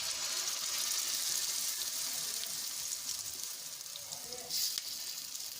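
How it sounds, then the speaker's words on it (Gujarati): Handvo batter of fermented rice and lentils pours into a hot tempering of cumin, sesame seeds and curry leaves, giving a steady, close, loud sizzle that fades a little toward the end, with a brief louder burst near the close. "હવે એમાં આપણે ખીરું એડ કરીશું"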